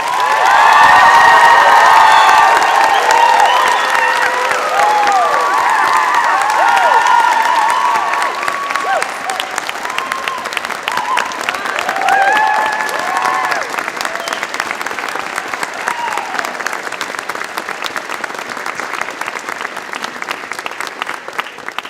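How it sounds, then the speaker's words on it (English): Graduates at a spring convocation ceremony applaud and cheer for the faculty, a loud crowd roar with whoops and shouts at first, settling into sustained steady clapping. "Faculty members and graduates, a round of applause for the faculty."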